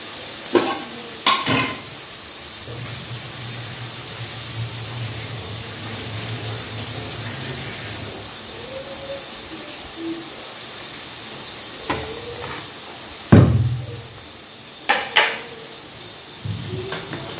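Soaked rice tipped into boiling water in a pot and stirred, giving a steady low bubbling hiss with a few sharp scrapes and clatters of the spoon near the start and end.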